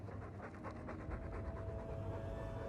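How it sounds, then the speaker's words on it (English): A dog pants rapidly and steadily in Dragon Age 2, a quick rhythmic huffing breath close by that goes on throughout at a soft level. "All that noisy dog breath, day in, day out."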